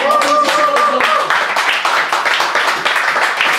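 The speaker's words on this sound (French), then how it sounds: "Applaudissons les papas qui sont là aujourd'hui." A church congregation claps together, loud and close, with a voice speaking over the opening moments before the clapping carries on alone.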